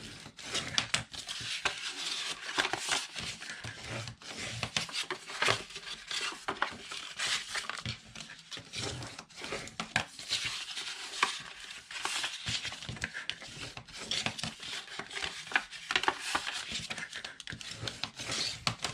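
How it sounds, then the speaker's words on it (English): Paper is folded and burnished by hand while making a box lid, a continuous close rubbing and scraping texture with soft taps, steady throughout and without speech. "I'm just folding and burnishing right now."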